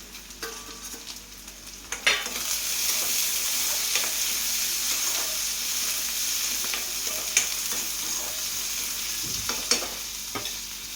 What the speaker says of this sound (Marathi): थोडासा कांदा खरपूस झाला का त्यानंतर त्यात टोमॅटो टाकून द्यायचा